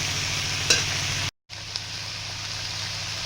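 Monsoon leafy greens stir-fried in a pan without water make a continuous close sizzle with occasional stirring clicks, broken by one brief moment of silence.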